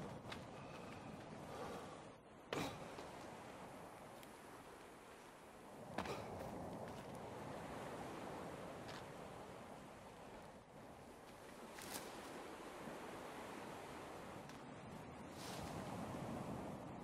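Ocean surf from The Forest video game, a steady wash of waves and wind noise running throughout, with louder splashes near the start and middle as a boat is pushed into the water.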